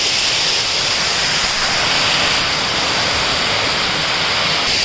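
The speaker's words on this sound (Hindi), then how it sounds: "Finally we have made to the waterfall." Marmala Waterfalls in Vagamon, Kerala, roar as a loud, steady, broadband rush of falling water that fills the whole stretch without pause, up close, with no voices.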